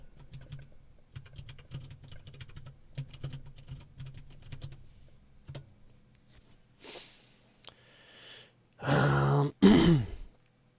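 Rapid, uneven clicking from a computer keyboard as someone types a note runs for about six seconds, close and clear. A few breathy, sighing sounds follow.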